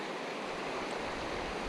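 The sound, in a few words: springs pouring into mountain river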